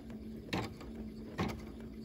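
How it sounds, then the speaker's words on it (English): An embroidery machine working a fabric mug rug in the hoop, making two separate mechanical stitch thunks about a second apart over a faint steady hum. "the machine will go one stitch at a time"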